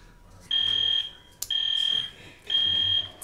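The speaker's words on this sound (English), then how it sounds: "I'm sorry, excuse me, we've got a fire alarm." A building fire alarm sounds during a committee meeting in a room, three loud shrill electronic pulses of about half a second each, with a sharp click between the first two and no talk.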